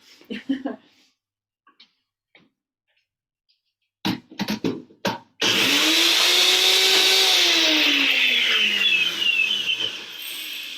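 A NutriBullet blender whirs loudly while blending basil pesto, its motor pitch rising and dipping as the contents shift. A few brief knocks and clatters come before it starts, and a person speaks briefly at the beginning.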